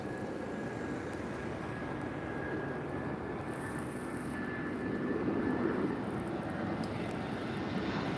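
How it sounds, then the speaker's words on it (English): An airliner landing at Lisbon airport gives off a steady, distant jet roar that swells a little toward the end, with a faint high whine running beneath it and no voices. "we have a landing coming in first"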